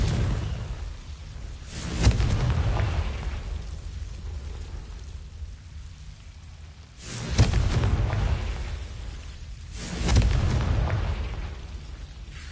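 Confringo fire spell explosions in Hogwarts Legacy erupt as three deep, rumbling blasts spaced a few seconds apart, each rolling off into a long low roar.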